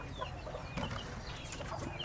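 Chickens cluck in a rural Filipino yard around feeding time, with short, close clucks and soft calls repeating over a steady outdoor background.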